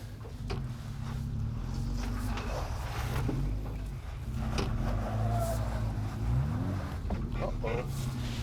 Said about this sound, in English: See what the Jeep does.